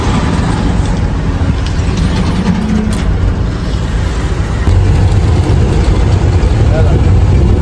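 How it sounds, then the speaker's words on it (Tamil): A heavy truck engine idles loud and close, then its low rumble swells slightly as the vehicle pulls away slowly after a long traffic block, with talk faintly under it. "வண்டி எடுத்தாச்சு அப்படியே மெதுவாக போகலாம்"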